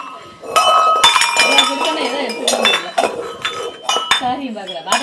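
Plates and dishes clatter and clink as they are set down and knocked together. The sharp, bright strikes are loud and close, come in quick irregular bursts throughout, and a voice talks faintly beneath them.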